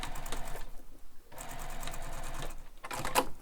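A sewing machine stitches a handbag seam within the seam allowance, running in close, rapid whirring bursts with a short pause in the middle.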